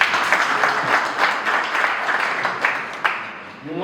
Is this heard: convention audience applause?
yes